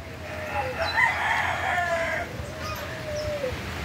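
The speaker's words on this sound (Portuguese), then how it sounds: "Aqui é o pátio das galinhas." A rooster crows among laying hens in a farm poultry yard, one loud, drawn-out crow close by over a low background hum, followed by softer clucking.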